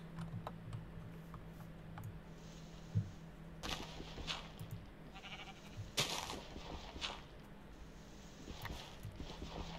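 Sheep bleats from a Minecraft hardcore survival game (version 1.17) come through a few times, mixed with other game sounds and light clicking, at a moderate level.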